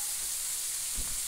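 Hilsa fish heads frying in hot oil in a pan give a steady, close sizzling hiss for just over a second, with a soft bump near the end.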